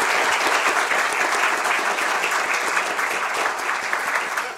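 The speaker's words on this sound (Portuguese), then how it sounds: "uma salva de palmas que eu gostaria que vocês todos" Loud, sustained applause from a crowd, dense clapping that continues evenly throughout.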